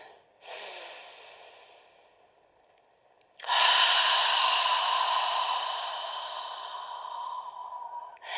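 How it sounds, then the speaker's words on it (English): Slow yoga breathing, a long inhale through the nose followed by a fuller, louder exhale through the mouth, close and alone in a quiet space. "breathe in through your nose, and do an exhalation out through your mouth"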